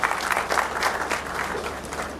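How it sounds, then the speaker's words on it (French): An audience at a ceremony marking the 60th anniversary of the Grand Mosque of Dakar applauds warmly, with many hands clapping in a steady, fairly close, full burst. "Sous vos applaudissements, s'il vous plaît,"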